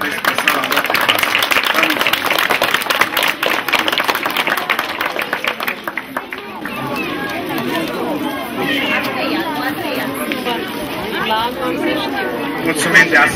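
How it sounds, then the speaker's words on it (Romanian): Applause and cheering from a crowd greet young pupils heading to their classroom at a school year opening in Satu Nou Pirgar, a dense burst of clapping with chatter, then settling into murmuring voices and scattered claps. "Să-i aplaudăm pe cei mici și ei să se îndrepte spre sala lor de clasă."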